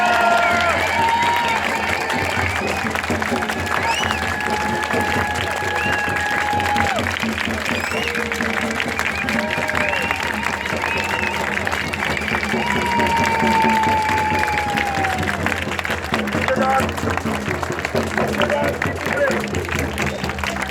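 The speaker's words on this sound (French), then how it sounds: "je vous demande à tous de vous applaudir pour ce superbe rassemblement" A crowd at an outdoor farmers' rally in Guingamp claps and cheers steadily, with scattered voices and whistle-like calls rising over the sustained applause.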